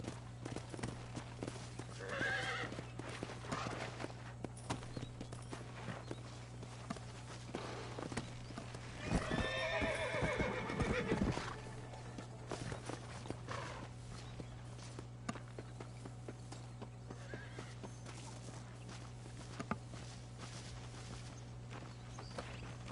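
A horse in the Red Dead Redemption video game clip-clops along with steady hoofbeats and lets out a loud whinny midway, over a constant low hum from the game.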